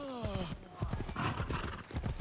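Horse hooves clip-clop and a loud whinny ring out from a horse in the Assassin's Creed Shadows video game, the neigh rising at the start before steady hoof beats continue beneath a talking voice.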